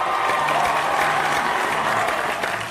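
Applause from an audience in an animated game-show setting, a dense continuous clapping wash held steady for a few seconds before easing off at the end.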